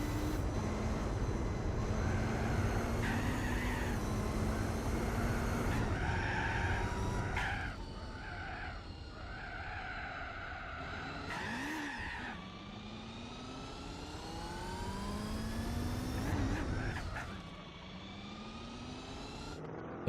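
A car engine in Gran Turismo 4 drones at low RPM with a deep, tonal hum whose pitch slides up and down through gear changes and shifting revs, steady and fairly loud throughout, with no voices.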